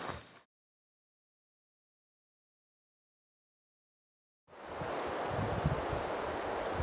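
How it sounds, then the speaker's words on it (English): Wind gusts roughly over an outdoor trail before a storm, a broad rushing noise that cuts out into silence and then returns steady and fairly loud. "it's getting pretty windy"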